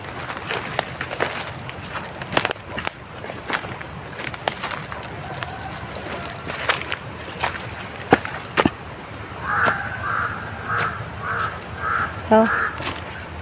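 Crows caw in short repeated bursts toward the end, over outdoor ambience with scattered clicks and steps; a voice talks faintly in the background.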